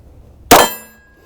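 A single sharp metallic clang as a bullet strikes a steel shooting target downrange, ringing briefly before decaying, with no talk.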